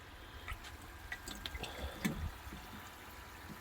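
Faint, sparse clinks and small liquid splashes as a spoon stirs potassium permanganate crystals into water, quiet and close.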